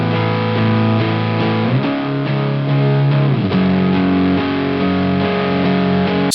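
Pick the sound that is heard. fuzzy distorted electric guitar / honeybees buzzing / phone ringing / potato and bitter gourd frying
fuzzy distorted electric guitar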